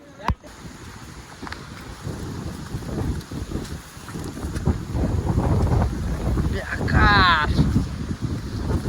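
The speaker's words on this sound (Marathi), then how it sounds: "मोकार वारा सुटला आहे" Strong gusts of wind buffet the microphone on a rainy monsoon trek to Gorakhgad, a loud, rumbling roar that swells and eases, with brief voices heard over it near the end.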